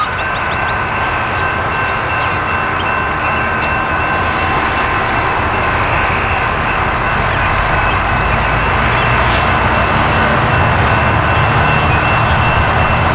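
A local freight hopper train rolls past on the tracks, a loud, continuous rumble with steady wheel and car noise that stays close and unbroken throughout, with no talk over it.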